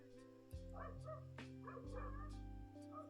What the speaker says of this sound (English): can you hear the neighbor dogs barking?